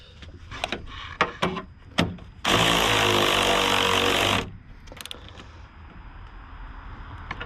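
Pneumatic or electric power tool running up the final suspension bolts on a Fiat Panda 4x4 in a workshop: a few sharp clanks, then one loud continuous buzzing burst of about two seconds, followed by quieter tool handling.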